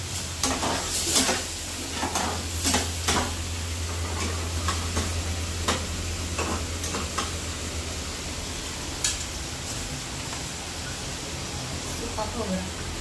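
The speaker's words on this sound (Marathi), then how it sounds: "थोडासा मसाला टाकून नंतर मग ते मिक्स करत आहेत." Masala is stirred into food frying in a pan at Agri Katta Meru Aai Dhaba in Nandore Naka, Palghar East. Close sizzling mixes with bursts of scraping strokes while a person talks over it.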